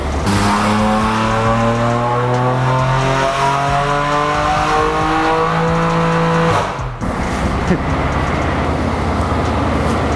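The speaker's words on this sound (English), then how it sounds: "let's put this car in the dyno and see what we end up with" A BMW M2 with an S55 engine runs hard on a dyno, its loud close engine note climbing steadily in pitch through the gears, then a sudden cut as the throttle lifts and it winds down.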